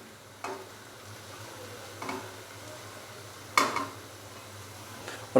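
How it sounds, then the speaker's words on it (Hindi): Spoon stirring boiled Maggi noodles and a fried egg into masala in a pan: a few separate scraping clinks over a soft background hiss, spaced out and fairly quiet. "और अभी चम्मच की मदद से इन दोनों को अच्छे से मसाले के अंदर मिक्स कर देंगे।"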